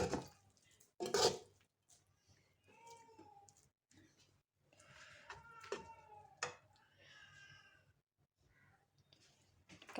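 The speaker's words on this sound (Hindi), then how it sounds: "अब निकालेंगे अपनी प्लेट में।" Chicken biryani being spooned from a pot onto a plate, with a few clinks of a utensil against the dish and light scraping, mostly under a person speaking.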